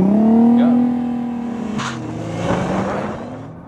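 Nissan GT-R pulling away under launch control from about four thousand rpm: engine tone rising and shifting through gears from inside the cabin, loud and close, with a voice talking over it.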